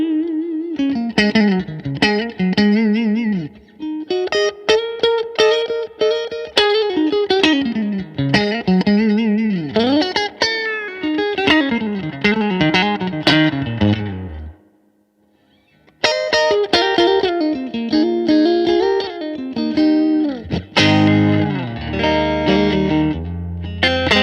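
An electric guitar plays through a Fender '65 Super Reverb amp preset, strummed and picked chords and riffs ringing with gritty, effected tone, loud and continuous apart from a brief silent break partway through.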